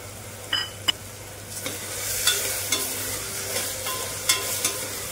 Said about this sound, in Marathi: टोमॅटो पण छान आपल्याला परतून घ्यायचा आहे।